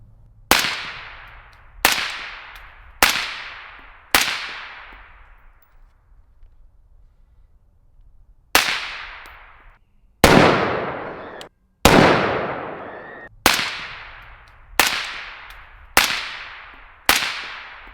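Sharp, fairly muted shots from a 5.56 rifle fitted with a Black Anchor Tactical Nautilus suppressor: four in quick succession, a pause, then seven more at a steady pace.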